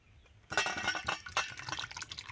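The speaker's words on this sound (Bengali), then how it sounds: "আলুর দমটা ঢেলে নিলাম।" Thick potato curry (alur dum) is poured and scraped out of a cooking pan, giving a burst of wet, sloppy pouring and clinking noises after a brief quiet start, continuing unevenly to the end.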